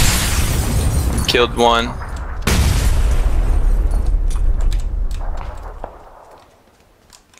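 Grenade blasts in PUBG, a loud booming burst near the start and a second heavy explosion mid-clip that rumbles and fades away, with a short spoken remark between them.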